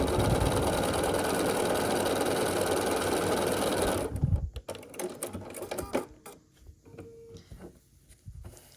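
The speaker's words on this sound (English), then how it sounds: "I'm going to just start stitching so that it's held in place" Sewing machine running a continuous stitch across a quilt block for about four seconds, close and steady, then stopping, followed by faint handling noises and rustles of fabric.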